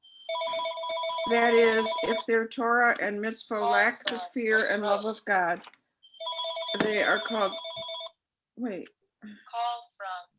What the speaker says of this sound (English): I'm sorry about my phone.